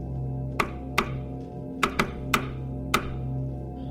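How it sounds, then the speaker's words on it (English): A sound effect of tapping at a chamber door: six distinct knocks in an irregular rhythm, two close pairs among them, sharp and fairly close, over a steady low background hum. "suddenly there came a tapping, as if someone gently"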